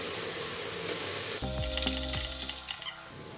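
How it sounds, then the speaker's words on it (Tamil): Tomatoes and two green chilies sautéing in oil for a plain biryani, with a steady hiss at first, then a spoon stirring and scraping the pan in uneven knocks over the sizzle. "தக்காளி ஆட் பண்ணிவிட்டு நீங்கள் நல்லா தக்காளி சாஃப்ட் ஆகிற அளவுக்கு வதக்கிக்கணும்."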